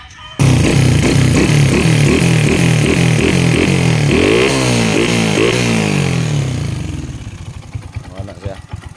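A Honda XRM125 four-valve engine fitted in a Kawasaki KX80 dirt bike frame, running without a proper exhaust, roars loud and close through rapid revving, rising and falling throttle blips, then settles toward a rough idle.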